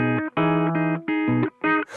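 A Death By Audio Reverberation Machine reverb pedal with its distortion engaged plays bursts of a thick, harmonically rich tone in a choppy rhythm, with brief silent gaps and no talking.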